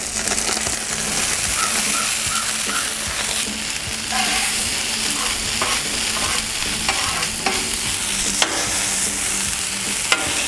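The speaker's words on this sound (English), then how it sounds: "All right, let's drop down these hash browns." Hash browns sizzle and fry in oil on a Blackstone flat top griddle, a steady loud crackle with stirring and scraping throughout and no voices.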